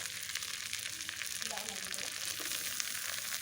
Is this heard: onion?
yes